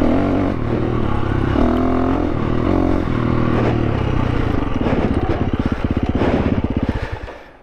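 A 2022 KTM 350 EXC-F dual sport motorcycle rides over whoops, its single-cylinder engine loud and close, revving up and down with a steady buzzing drone and a rapid pulsing putter near the end before fading.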